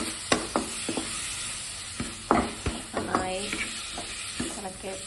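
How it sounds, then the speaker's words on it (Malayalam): Sliced onions and chopped tomato sauté in a pan, a steady sizzle under sharp metallic scrapes and clanks of a spoon stirring at irregular intervals, close and clear with no voices. "സവാളയും ചേർക്കാം കുറച്ചേർത്ത് വഴറ്റാം ചേർത്ത് വഴറ്റണം"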